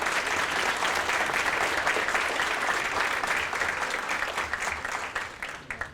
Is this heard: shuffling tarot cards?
no